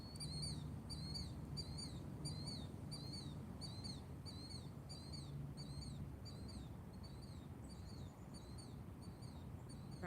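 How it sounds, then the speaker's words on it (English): A bird calls repeatedly outdoors, faint, rhythmic chirping phrases repeating over a steady broadband hiss and low background rumble, with no talk. "You hear that bird,"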